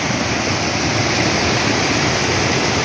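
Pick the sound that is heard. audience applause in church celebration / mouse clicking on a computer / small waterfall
small waterfall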